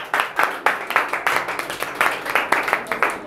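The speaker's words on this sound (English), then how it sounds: "everybody, come on, give a clap." An audience claps together in a brisk, even rhythm of sharp claps, loud and close, with no voices.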